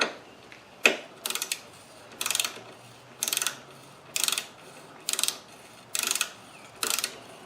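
A torque wrench ratchets bolts down on an adapter plate, producing short bursts of rapid clicking repeated at a steady pace, close up and crisp with quiet gaps between strokes.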